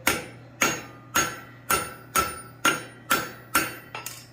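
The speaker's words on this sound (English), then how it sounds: "Bring it up on the anvil, hammer it towards you, and around, and up, and around." Hot steel struck on an anvil while forging a punched ball end for a hook: eight evenly spaced, ringing hammer blows about half a second apart, close and clear over a low hum, with no voices.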